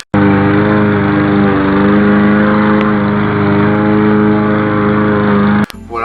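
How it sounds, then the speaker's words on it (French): A neighbour's lawn mower engine drones loudly and steadily nearby with a constant buzzing hum that barely varies, then cuts out abruptly near the end. "empêcher que Lulu le voisin allume sa tondeuse pendant que vous tournez"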